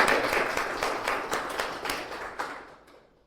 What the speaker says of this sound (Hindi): दोनों सर के सम्मान में एक बार जोरदार तालियां बजाना है